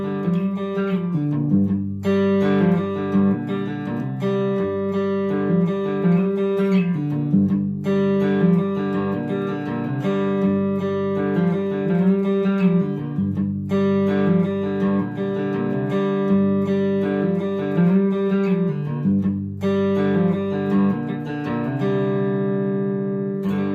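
Cigar box guitar repeats a steadier, faster riff with the back strings lightly muted, played in looping phrases with short breaks between, close and even, no voice.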